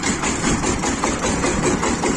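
Kentavr 240 mini tractor engine idling, a steady, dense mid-low rumble with a faint rhythmic knock running evenly throughout, fairly loud and close with no talk.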